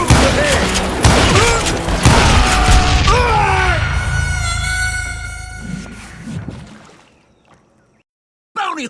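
Gunfire and booming blasts in the Western shooter Call of Juarez Gunslinger, loud bursts over a rumbling score with shouting voices and ringing tones, fading to near silence before a final hit.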